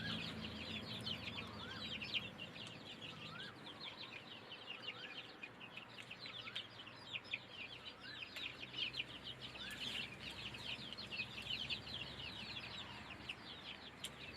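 A flock of chickens clucking steadily while being fed, many overlapping clucks and soft calls near and far in a continuous outdoor chatter with no talk.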